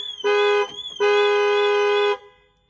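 Two loud blasts of a Ford Transit Custom van's security alarm, warbling with a horn-like tone, a short burst followed by a longer one, cutting off abruptly into quiet.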